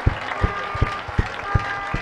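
A church crusade congregation in Imo State claps together in a steady, rhythmic beat of about six evenly spaced, punchy claps, with no talking.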